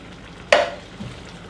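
Chopped tomato from a roughly 400 gram tin is stirred into a hot pan for lasagne, giving one sharp splashing sizzle that fades quickly, then a faint scrape.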